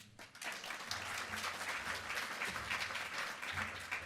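An audience applauds to welcome a speaker at a library space design talk, a dense, sustained wash of clapping from many hands that swells after a brief quiet start and continues steadily to the end.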